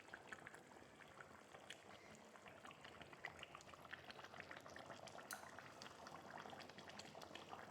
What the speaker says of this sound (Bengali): মাঝখানে একবার নাড়াচাড়া করে দেব এবং ঝোলটাকে ভালোভাবে ফুটতে দেব।